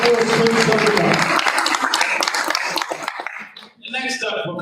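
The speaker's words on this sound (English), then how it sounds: "applause for our strong sports students of the month" An audience at a school board meeting claps for the sports students of the month, a burst of many hands that thins out into scattered claps while voices and a chuckle come through over it.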